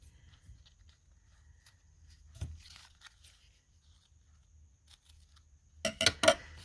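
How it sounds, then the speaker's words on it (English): A pair of scissors cuts paper for a page-edging craft project. A quiet stretch with faint handling noises ends in a short cluster of crisp, close snips. "Grab a pair of scissors."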